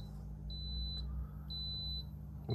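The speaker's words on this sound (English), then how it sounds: "And the servo's gone into alarm." An off-grid power system's servo alarm sounds after a surge protection device is removed, giving two short, high, piercing electronic beeps about a second apart over a steady low hum, with no voices.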